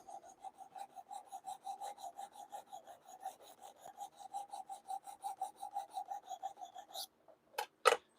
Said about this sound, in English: We are cutting with a 320 grit work sharp diamond plate.